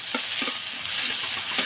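Fried onion stirred with ginger-garlic and cumin paste in a hot pan, a steady close sizzle with soft irregular scraping and stirring strokes, no voices.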